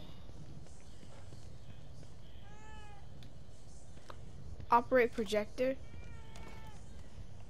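A cat meows a few times inside the horror video game The Evil Within 2, short rising cries against a low ambient hum, with someone speaking briefly around them.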